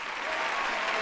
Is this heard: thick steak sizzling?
no